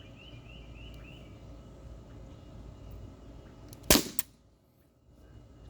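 An H&K VP9 CO2 blowback air pistol fires a single shot, a sharp, close crack followed by a quick slide clack, after a quiet outdoor stretch with faint birdsong in the background.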